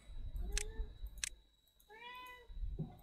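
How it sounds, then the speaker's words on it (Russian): A house cat meows twice in short bursts close by, followed by a longer, drawn-out meow and a faint low rumble at the end, with no talking over it. "Да уйди ты, кот!"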